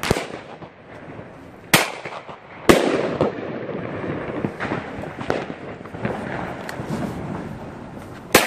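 New Year's Eve firecrackers and fireworks exploding outdoors, a run of sharp bangs and crackles at irregular intervals, some loud and close, others fainter and distant, with no talking.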